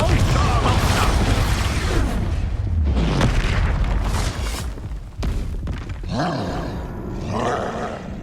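Explosive Confringo and Expulso spell blasts from Hogwarts Legacy, a loud run of booming, roaring bursts and thuds in quick succession over dense game music and effects, with a player shouting spell names throughout.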